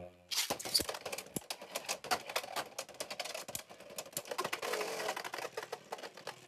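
A Beyblade X Brush Fox attack-type spinning top clatters around a plastic stadium in quiet, dense, rapid ticks and scrapes, with sharp collision clicks throughout.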